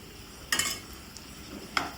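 Two sharp metallic clinks of a utensil against a pan, over a faint steady background hiss of onions and tomatoes sautéing quietly.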